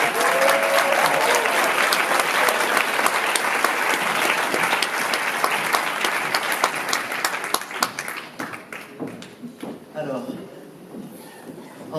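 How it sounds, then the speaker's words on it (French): An audience at a church jubilee celebration applauds steadily and loudly, then the clapping thins out and fades near the end. "Je vous applaudis."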